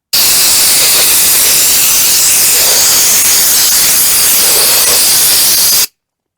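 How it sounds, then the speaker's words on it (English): WD-40 aerosol sprayed into a TC Wanderer hub motor gives a loud, steady hiss that runs unbroken for about six seconds and then cuts off abruptly, with no talking. "I'm going to spray some WD-40 in here, and let it sit for a while"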